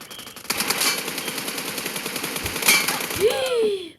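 Rapid automatic gunfire in PUBG Mobile during a team deathmatch, sustained bursts of closely spaced shots at steady volume, with a sharp louder report near the end followed by a whooshing effect.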